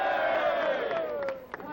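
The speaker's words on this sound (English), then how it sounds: "I want you to give him a big, rousing cheer" A crowd at a 1981 Daniel Boone chorus show gives a loud, rousing cheer, voices rising together in one sustained shout that trails off after under two seconds.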